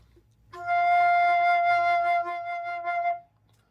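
A single flute note, F natural, is held steadily for about three seconds, clear and close, with no other sound around it.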